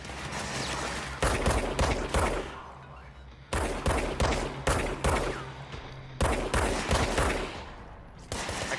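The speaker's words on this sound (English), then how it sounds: "I can't reload, so shooting slow and having precision is better than shooting fast." Repeated bursts of rapid gunfire from the video game Control, loud and close, coming in three clusters of sharp shots separated by brief lulls, with a steady low hum running underneath.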